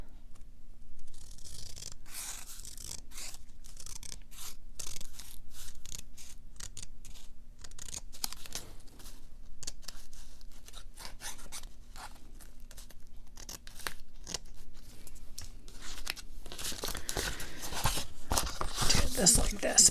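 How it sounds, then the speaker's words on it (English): Scissors snip through material during a travel junk journal craft project, a long run of quick, close cuts and crinkly handling with short pauses, continuing steadily and growing brisker toward the end. "I'm going to cut that just a tiny bit"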